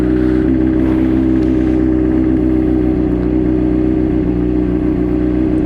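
A Honda CBR 600RR HRC Edition sport motorcycle, a 600cc engine without ABS, warming up at a steady idle, a loud close rumble that stays even and constant with no revving.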